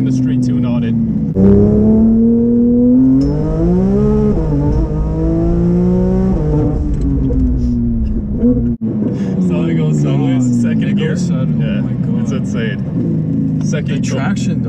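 A turbocharged Porsche GT3 RS with a street tune accelerates hard, its engine note climbing and falling through gear changes close inside the cabin, while people talk over it.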